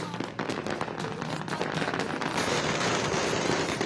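Dense, rapid crackle of firecrackers bursting continuously at a political welcome rally in Kulavanigarpuram, Tamil Nadu, as supporters waving party flags greet a leader; close and loud, building to an unbroken roar.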